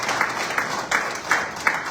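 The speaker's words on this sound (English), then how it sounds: "a round of applause for Juliet" Audience applause at a Zimbabwean embassy gathering in Namibia, honouring a woman named Juliet: steady, moderately loud clapping across the whole two seconds with a few sharper claps standing out, no voices over it.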